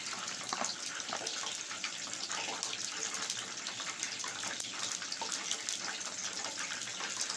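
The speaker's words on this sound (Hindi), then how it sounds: "अभी हम इसमें पानी डाल के इसे गोल तैयार कर लेंगे।" Water is poured into a bowl of maida and cornflour to make a burger coating, a steady close trickling and splashing stream running for several seconds without talk.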